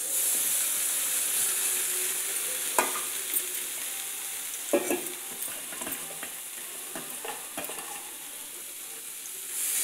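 Boiled dal being stirred into cooking tamarind leaves in a pan, a soft steady sizzle with scattered scraping stirs and clinks, close and fairly quiet.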